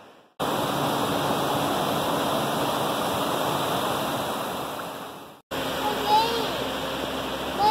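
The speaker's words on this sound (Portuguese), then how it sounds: "Nem vou colocar música, só ouvindo o barulhinho da água." Water washes steadily at the shore of Ilha do Mel in Paraná, a continuous close rush of surf broken by a brief cut, with faint bird chirps afterward.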